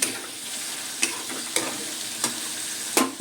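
Chicken with turmeric sizzles steadily in a pan while a spatula scrapes and stirs in several distinct strokes, close and clear, with no talking.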